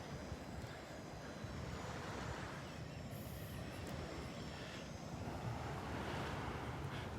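Ocean surf and wind on the beach at Delnor-Wiggins, a continuous broadband wash with steady wind noise across the microphone and no distinct breaks.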